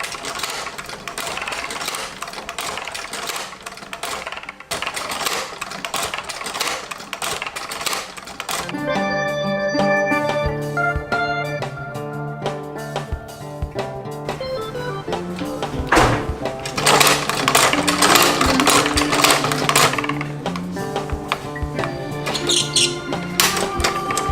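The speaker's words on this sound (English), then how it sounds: "we're going to take it onto the sewing machine" A sewing machine stitches leather in bursts with rapid mechanical stitching and clicking, steady and close, with no talking.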